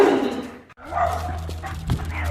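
Corgi on a leash barking and yipping at another dog during an outdoor walk, a run of close, loud, excited barks with a brief pause, some whining mixed in.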